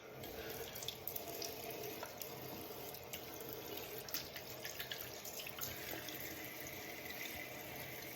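A bathroom sink tap runs steadily throughout while someone rinses their face during a nighttime skincare routine, a continuous close hiss of flowing water with small splashes and no talking.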